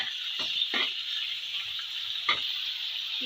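Minced meat stirred in a hot pan while cooking potol dorma: a constant oily sizzle with a few quick scraping strokes of the spoon, close up and alone.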